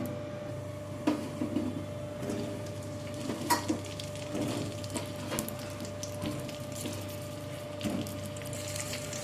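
Washed, sun-dried jujube berries tipped into hot oil with cumin for a sweet-sour pickle, giving a low steady sizzle with a few scattered scrapes and clinks of stirring, fairly quiet throughout.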